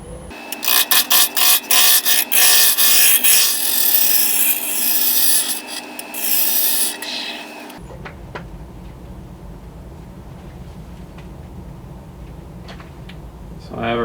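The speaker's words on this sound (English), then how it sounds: "Use spindle roughing gouge to get it round" A spindle roughing gouge rasps against a wood blank spinning on a lathe, a loud continuous scraping with rhythmic ticks before it cuts off, leaving quieter workshop noise and faint knocks.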